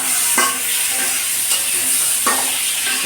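Koi fish curry fries in a pan with a steady, close sizzle, and a spoon stirs and scrapes through it a few times.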